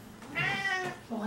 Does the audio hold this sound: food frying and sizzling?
no